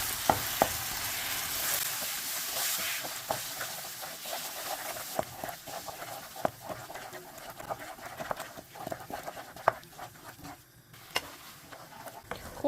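Ingredients for Lao-style khao soy sauce stir-fried in a pan, with a steady sizzle broken by scraping, stirring clicks through the whole stretch, and a voice talking over it.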